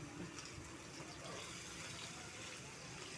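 Water poured into a cooking pan while preparing a chicken and vegetable dish, a steady close splashing gush that runs evenly for a few seconds.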